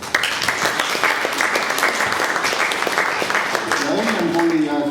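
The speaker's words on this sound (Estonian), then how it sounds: "Palun tervitage aplausi saatel Kurli Vedru" Audience applause welcoming a speaker onto the stage at an Estonian talk event, dense and loud throughout with a voice talking over it near the end.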